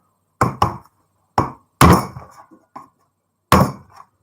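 A chisel strikes a copper pipe in several sharp, separate metallic knocks, some in quick pairs, close and loud against a silent background.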